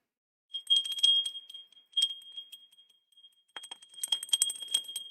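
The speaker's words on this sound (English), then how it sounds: "That's a loud bell, isn't it?" A small high-pitched bell rings in quick jingling bursts, a short flurry, a few single strikes, then another shaking burst, bright and close.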